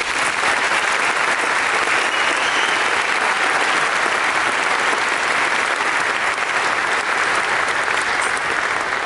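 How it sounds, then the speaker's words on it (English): A graduation crowd applauds the teachers in a long, steady, loud wash of clapping that holds evenly throughout. "let's please take a moment to applaud our U-High teachers"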